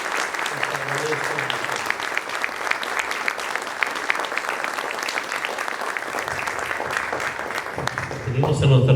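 Dense, sustained clapping fills a lecture hall after a talk on Colima's sixteenth-century residents. Faint voices sound briefly near the start, and a speaker's voice rises over the last second as the applause fades.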